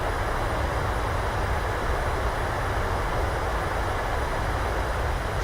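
Boeing 737 thrust reversers roaring at full power on landing in Microsoft Flight Simulator, a loud, constant broadband rumble that holds steady throughout with no gaps.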